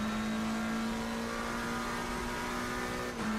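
Race car on a tyre warming lap in Assetto Corsa Competizione at the Hungaroring, its engine holding a steady, loud high drone with a brief dip near the end, no talk over it.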